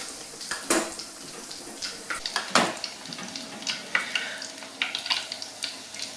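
Scotch eggs deep frying in hot oil, a continuous crackling bubble dotted with sharp pops and a few clinks of utensils against the pan, close and unaccompanied by speech.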